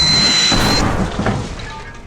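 A red-hot ram rocket fired in the Cthulhu adventure game Gibbous explodes with a loud, booming blast that rolls away and fades over about two seconds.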